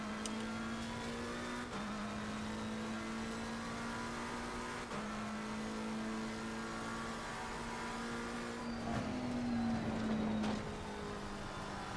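A GT race car engine in Assetto Corsa Competizione running steadily with a droning note, clicking through several quick downshifts that briefly shift the pitch, then revving back up, heard from the cockpit with no talk.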